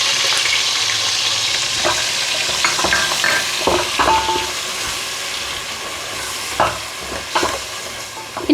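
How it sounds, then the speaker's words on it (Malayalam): Onion paste with ginger-garlic paste frying in oil in a pan for chicken pulao, a steady close sizzle broken by repeated scraping stir strokes and small clatters, with no talking. "ഇനി ഇത് നമുക്ക് കുറേ നേരം ഇളക്കണം. ഇളക്കി ഇത് എണ്ണ തെളിയുന്നത് വരെ നമുക്ക് ഇളക്കണം."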